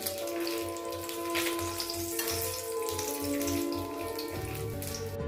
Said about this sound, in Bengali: গরম তেলের মধ্যে এলাচ, লং, দারুচিনি এগুলো দিলাম।